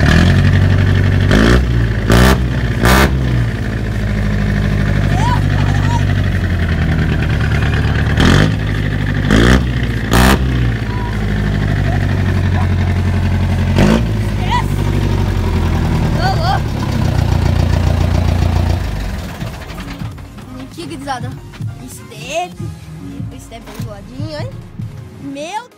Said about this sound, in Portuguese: tava muito forte o escape